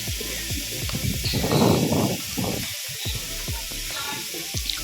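Onions sautéing with salt in a pan for homemade channa masala give a steady, close sizzle and crackle that swells briefly in the middle, with no talking over it.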